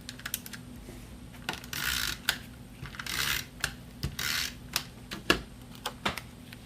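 Snail adhesive tape runner pressed along designer series paper for a card, a run of quiet ticking clicks and short rolling rasps in an uneven rhythm, close and alone.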